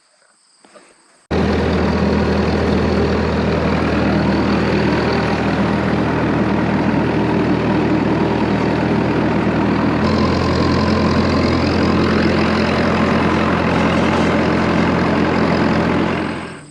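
Heavy truck engine droning loud and steady while towing a big hay trailer, a constant low rumble with a brief shift in tone partway through, no talking.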